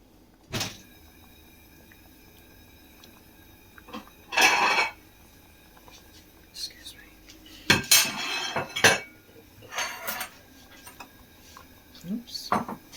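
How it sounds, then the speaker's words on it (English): Bowls being set out in a home kitchen, with sharp ceramic clinks and knocks coming in scattered bursts between quiet stretches, close by, and some faint movement around them. "let me just get the bowls ready"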